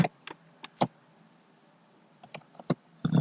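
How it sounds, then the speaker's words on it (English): Typing on a computer keyboard, sparse close key clicks in short bursts with quiet pauses between, ending in a quick cluster of taps. "we're going to type testing"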